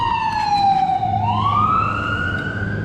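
An emergency siren wails nearby, its pitch dipping then climbing again as it passes, over a low rumble of road traffic.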